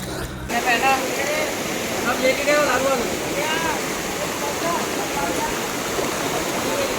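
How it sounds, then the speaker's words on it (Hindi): A small river crossed on a forest trek in the Satpura hills rushes and gurgles steadily at close range, a dense continuous wash of flowing water from start to end. "ये तो बस एक छोटी सी नदी थी जो हमने क्रॉस किया।"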